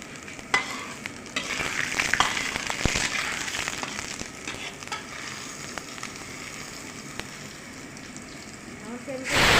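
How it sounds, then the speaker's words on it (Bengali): Tomato gravy poured into hot oil tempering while making maida sabji, a loud crackling sizzle with scraping stirring, busy and close, fading slightly before a burst at the end, with a voice speaking over it. "টমেটো গ্রেভি গ্রাইন্ড করে গ্রেভি করা হচ্ছে, সেটাকে ফোড়নের মধ্যে দিয়ে দিতে হচ্ছে"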